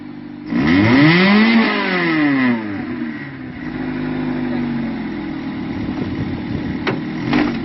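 A Honda Civic turbo engine revs up sharply while warming up, rising and falling in pitch, then settles into a rough idle with occasional blips; loud and close.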